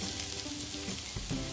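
Grated fresh coconut fries in melted ghee for coconut barfi over a medium flame, a close, steady sizzle and crackle with light stirring and no talking.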